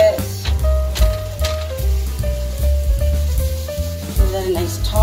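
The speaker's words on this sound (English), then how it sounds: "this has been sauteing now for a few more minutes here" A vegetable stir fry with garlic sautéing in a pan, giving a continuous close sizzle with steady frying crackle and occasional stirring knocks, loud and alone without talk.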